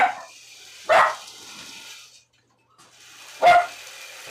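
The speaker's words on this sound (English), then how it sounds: "That's my dog that barks." A dog barks nearby in a home, giving three sharp, loud barks: two at the start and one after a quiet gap of about two seconds.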